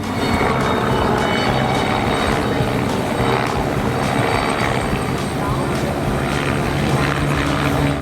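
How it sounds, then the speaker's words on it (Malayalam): Loud, close helicopter noise with rapid rotor chopping and a droning engine whine, sustained throughout as the aircraft lifts and flies. "ഇവിടെ ഹെലികോപ്റ്ററുകൾ ഉയരുന്നതും താഴുന്നതും പറക്കുന്നതും"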